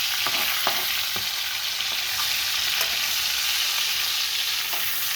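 Giant freshwater prawns frying in hot oil for a Bengali prawn malai curry, a steady close sizzle with occasional stirring clinks running throughout, no voices.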